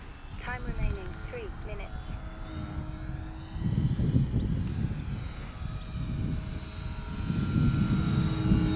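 The engine of a Scorpio Miss Bipe 1.08m vintage RC biplane drones steadily in flight on its maiden flight, rising and falling in loudness as it passes, with a person talking over it and wind on the microphone.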